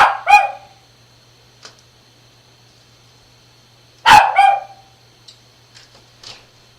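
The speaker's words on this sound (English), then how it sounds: "And I'm sorry about my dog barking." A dog barks in two short bursts, a couple of sharp barks close by, then a few quieter yips trail off in a quiet room.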